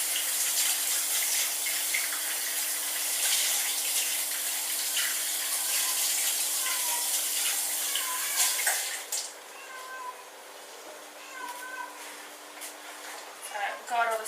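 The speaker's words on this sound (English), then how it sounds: "we're just going to run it on some cold water very quickly because we don't" Cold water streams from a kitchen tap while seeds are rinsed out of a vegetable for a rice salad, a steady flow that stops about two-thirds of the way through, with a voice talking over it.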